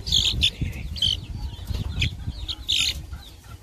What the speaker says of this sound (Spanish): Este es un pollito buen mozo de veras. Parece un gallito.